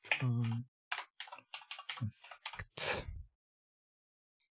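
Fingers tap out short bursts of keystrokes on a computer keyboard, quick clusters of crisp clicks with brief pauses between, close and fairly quiet.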